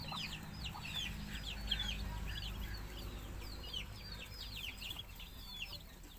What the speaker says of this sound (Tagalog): Ganda ng mga pato. Mga bagong pisang pato.